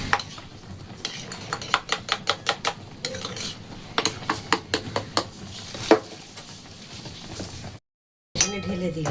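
Spoon stirring custard powder and cornflour mixed in a small bowl, knocking and scraping rapidly against the sides in a rhythmic run of clinks before going briefly quiet, then a last clatter of the utensil.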